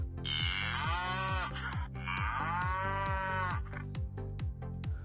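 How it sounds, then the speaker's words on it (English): A cow moos loudly and close by in two long drawn-out calls, each swelling and fading, with no other sound around them. "Cow says moo,"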